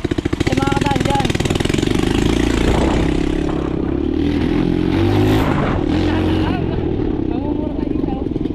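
An enduro motorcycle engine runs close by with a loud, rough, throbbing note that rises and dips slightly, while people talk over it.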